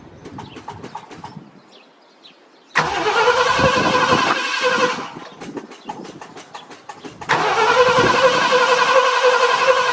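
A 1966 Lincoln, long neglected, being cranked with the ignition key: two loud bursts of churning starter and engine noise, each several seconds long, separated by a quieter stretch.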